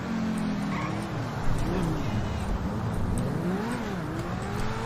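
A car engine in the GTA video game revs and drones steadily with shifting pitch, loud and continuous throughout, with a faint clatter at the end.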